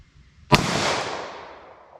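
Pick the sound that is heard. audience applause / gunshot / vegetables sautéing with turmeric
gunshot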